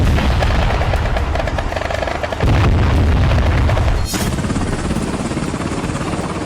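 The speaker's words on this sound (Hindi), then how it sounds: "हर तरफ से गोलियां चली।" Loud, dense battle noise from the Israel-Hamas war in the Gaza Strip, booming blasts and bursts of gunfire, continuous and chaotic, with a sharp shift partway through.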